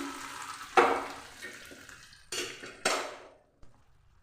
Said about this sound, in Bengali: এবার ফোড়নটা খিচুড়ির মধ্যে দিয়ে দিচ্ছি।